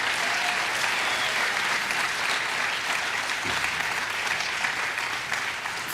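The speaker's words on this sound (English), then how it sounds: "That deserves a huge round of applause for all of us." Sustained, dense applause from a large crowd at the closing of a women's summit, loud and even throughout with no break, many hands clapping together.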